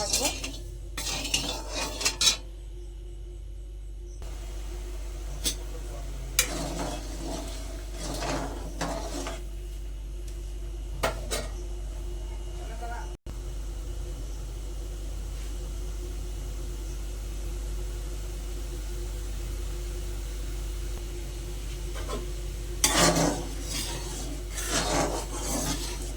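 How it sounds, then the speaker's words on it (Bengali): Metal spoon scraping and rasping against a cooking pot while sugar and water are stirred for syrup, coming in irregular close bursts over a steady low hum. "দিয়ে এটা আমি খুব ভালো করে নেড়ে চেড়ে চিনিটা যতক্ষণ না পর্যন্ত পড়ে যাচ্ছে আমি নাড়তে থাকবো।"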